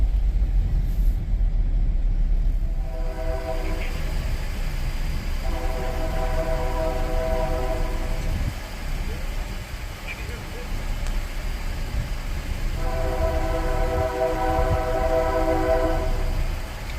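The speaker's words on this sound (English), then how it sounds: "you can still definitely hear those trains throughout the entire city here" Union Pacific freight trains roll through a city with a continuous low rumble, while a train horn sounds two long, loud blasts separated by a pause.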